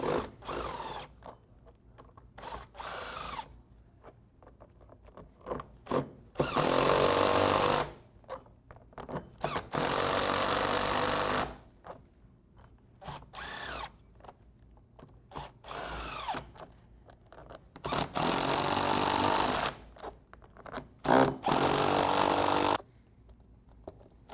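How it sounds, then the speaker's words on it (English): A power tool tightens the nuts on Flexco bolt solid plate fasteners during a conveyor belt rip repair. Loud, close bursts of high-pitched whirring run several seconds each, separated by quieter clanks and handling noise, with no voices. "I'm going to start by just tightening the nuts so the plate is flat on the belt"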